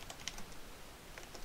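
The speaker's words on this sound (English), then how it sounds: "Let me get this typed correctly." Quiet, fast typing on a computer keyboard while writing C# code in Unity, a steady run of light clicks close by with no talk.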